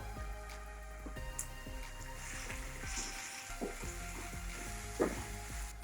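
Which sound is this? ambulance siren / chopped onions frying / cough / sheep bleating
chopped onions frying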